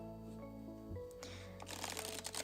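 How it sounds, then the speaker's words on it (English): Tarot cards being shuffled by hand close to the mic, a run of soft papery riffles and slides that grows busier and denser toward the end, with no voice over it. "shuffling the other way, so I'm doing it this way."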